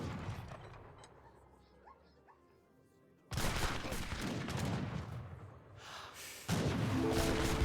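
Three Gatling guns fire in an Age of Empires 3 battle as a dense, loud, rapid rattling barrage that starts abruptly after a quiet stretch with faint voices, then intensifies again near the end.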